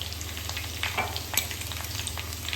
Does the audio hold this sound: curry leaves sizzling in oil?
yes